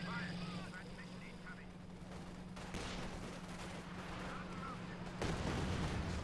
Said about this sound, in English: More Katyusha fire here from Viklas.